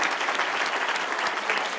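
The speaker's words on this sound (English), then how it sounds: "Big round of applause." Audience applause fills a keynote talk hall, a dense steady clapping from a crowd that stays loud and even throughout with no voices on top.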